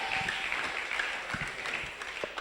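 A church congregation applauding together, a steady dense patter of many hands clapping at moderate distance in a reverberant room, with a few voices faintly mixed in.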